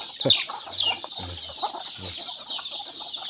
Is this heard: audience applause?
no